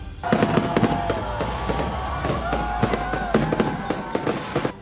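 New Year's countdown fireworks on a beachfront crackle and pop in rapid, irregular bursts over a constant background rumble, with a faint whistling tone running through.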